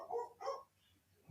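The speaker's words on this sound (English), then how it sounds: "I don't know if you can hear my dog." A pet dog gives two short, muffled barks in quick succession, faint and distant from the microphone, with a brief thump just after.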